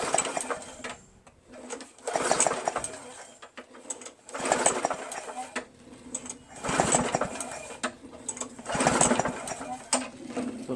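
A Murray push lawn mower with a 4.5 HP Briggs engine, a curbside find, is cranked repeatedly but fails to start, giving a rhythmic series of whirring recoil pulls about every two seconds with no engine catching.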